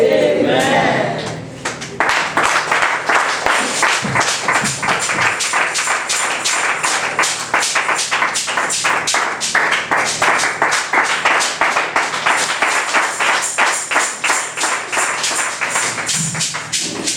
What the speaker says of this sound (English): If you are clapping, clap those hands very well to the Lord.